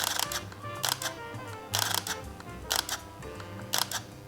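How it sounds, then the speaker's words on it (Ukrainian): Quiet mechanical whirring with a few sharp clicks and brief bursts of buzzing as a Fujifilm X-T10 mirrorless camera powers on after repair, heard up close. "Робимо перше включення. І камера в нас зразу завелася"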